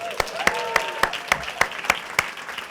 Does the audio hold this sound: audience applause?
yes